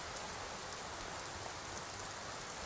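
Steady rain pours in the video game Skyrim on a cold mountainside, a dense, even hiss with no breaks or voices throughout.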